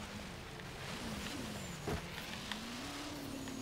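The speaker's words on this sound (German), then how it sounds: "Der Wagen, der geht ziemlich gut auf, muss ich sagen." A race car in Forza Horizon 3 drones steadily at high engine revs, its pitch drifting up and down as it accelerates, running continuously and fairly loud, with no talking.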